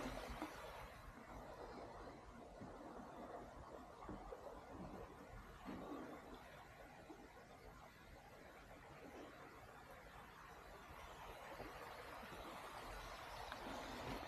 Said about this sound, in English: Bit more like a nice little proper babbling stream,